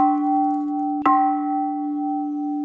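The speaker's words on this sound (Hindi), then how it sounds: "घंटी बजती है।" An old iron bell struck once in a horror cartoon, giving a single sharp clang whose steady metallic ring and humming overtones sustain and slowly fade over a continuous drone.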